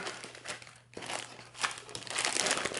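A plastic bag crinkles and rustles close by in irregular bursts, growing busier and louder toward the end.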